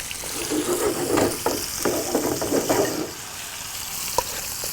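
Fish for a yellow belly and yabby dish frying in a pan, with a steady sizzle and scattered crackles and soft stirring taps that ease off after a few seconds, ending with a single sharp click.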